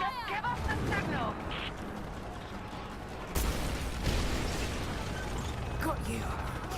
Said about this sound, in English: I've got to shoot the fireball in the air.